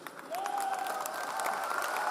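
Audience clapping steadily at a gathering, a dense continuous wash of applause with a faint sustained tone running underneath.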